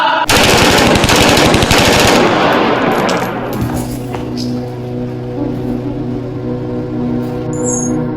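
Rapid automatic gunfire from guns being shot, loud and dense bursts for about two seconds, followed by a lingering rumble and fainter scattered sounds as the shooting dies away.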